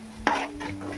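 Egg bhurji with chilli powder and spices being stirred in a pan, heard as a sharp utensil scrape against the pan followed by softer stirring strokes over a faint sizzle and a steady hum, close up.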